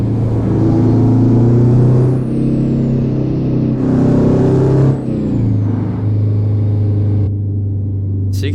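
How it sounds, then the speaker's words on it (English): Ford L-Series 8000 truck in American Truck Simulator, heard from outside: a loud, steady low diesel engine drone with a thin high turbo whistle rising and falling over it, and a brief hiss near the end. "So you can definitely hear that turbo whistle really nicely."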